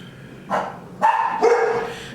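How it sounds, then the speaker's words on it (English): Several dogs bark at home, three or four sharp, overlapping barks in quick succession, fairly close and loud. "there goes the dogs. They hear daddy."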